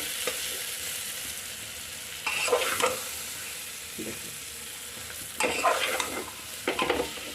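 A vegetarian mutton-style curry being stirred and fried in a pan, with a steady low sizzle broken by several louder bursts of scraping and frying as the spoon turns the mixture, close and without talk.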